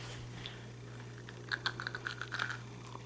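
Crisp, rapid crunches of biting and chewing a cast-iron-fried breaded oyster, a close cluster of sharp clicks in the latter half over a low steady hum, with no talking.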